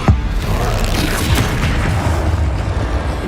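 Hogwarts Legacy spell combat with Incendio and Confringo casts: a sharp low boom at the start, then a steady rumbling wash of blasts and impacts that stays loud and dense throughout.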